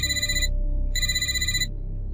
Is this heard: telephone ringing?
yes